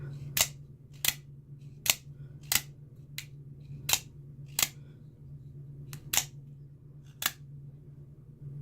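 A Horizon Punisher out-the-front automatic knife with M390 blade firing and retracting, about ten sharp metallic snaps spaced roughly a second apart, close and crisp over a low steady hum, with no talk.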